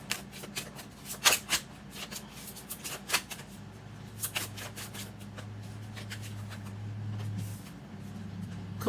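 Oracle cards are shuffled by hand in a series of quick, close riffling bursts, some sharper than others, with soft rustling between them and no talking.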